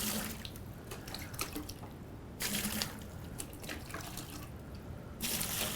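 Water pours and splashes into a bucket during plaster wall patching, a faint running, trickling stream with brief louder gushes, heard alone without voices.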